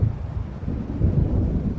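Low, steady roar of storm wind with a deep rumble of thunder in Alan Wake Remastered. It sounds continuous and heavy and carries no voices.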